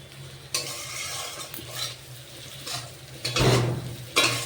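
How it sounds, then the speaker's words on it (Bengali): Cauliflower and potato are stirred into spiced oil in a pan, with repeated scraping strokes of a spoon against metal over a faint sizzle, several louder clanks near the end, close and without talk. "এখন এর মধ্যে ফুলকপি আর আলু দিয়ে দিলাম দিয়ে মশলার সাথে খুব সুন্দরভাবে মিশিয়ে নেব"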